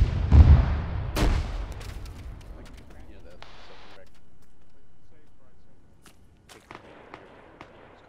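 A frag grenade blast and gunfire in the ArmA military game: a heavy close explosion at the start and a sharp crack shortly after, followed by a few scattered distant shots and thin rumbling, with people talking over it.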